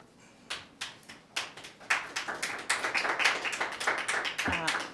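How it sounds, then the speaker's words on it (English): Clapping breaks out at a city council meeting after a public commenter finishes: a few separate claps at first, then building into steady group applause from the room that carries on for several seconds. "I'm going to ask for no clapping"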